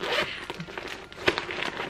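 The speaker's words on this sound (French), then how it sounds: "Et pour finir, à l'arrière, une dernière fermeture." A zipper on the back of a bag is pulled open in a few quick, close rasping strokes with short pauses between them.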